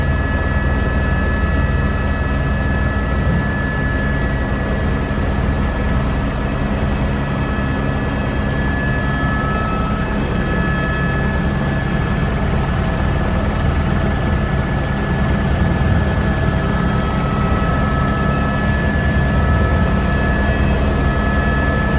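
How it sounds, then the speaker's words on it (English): A helicopter flying overhead to film a high-speed chase for a movie gives a loud, steady rotor and engine drone that holds without a break, close and dominant throughout. "This helicopter pilot is filming a high-speed chase for an upcoming movie."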